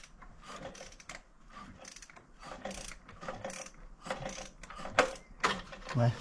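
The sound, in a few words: ratchet turning a BMW N57 engine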